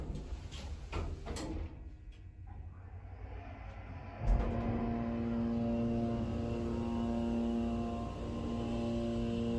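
A Montgomery KONE hydraulic elevator motor in Northville, MI starts up partway through with a low thump, then runs as a steady hum and whine. Softer machine noise and faint clicks come before it, and no one talks.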